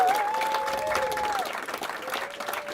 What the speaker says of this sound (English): One big round of applause for all the comics you saw tonight.